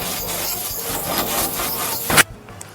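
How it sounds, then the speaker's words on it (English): A small carrot is grated on a coarse grater, giving close, loud rhythmic rasping strokes in quick succession that end with a sharp scrape and then stop. "slowly grate one small carrot on a coarse grater"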